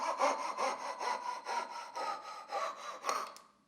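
Hand saw cutting a dovetail joint in timber, steady rhythmic back-and-forth strokes close by, each stroke a rasping pulse, the tone shifting slightly toward the end before the cut stops and falls quiet.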